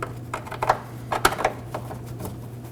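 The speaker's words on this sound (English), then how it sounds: "On the left side of the canister, we're going to hand thread on our 13mm bolt." Small metallic clicks and light scraping from a 13mm bolt being hand-threaded onto the rear vapor canister of a 2015-2023 Nissan Maxima 3.5L V6, heard as a few sparse, close ticks over a steady low hum.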